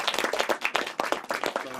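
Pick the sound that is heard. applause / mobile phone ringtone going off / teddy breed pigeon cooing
applause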